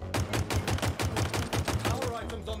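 Rapid, evenly spaced bursts of gunfire and blasts in the Halo video game, a grenade exploding among them, loud and continuous throughout at close range with no pauses.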